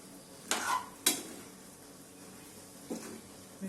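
Cauliflower curry stirred in a pan with a spoon: a few short scraping strokes, two close together near the start and one more later, with quiet gaps between and no talk.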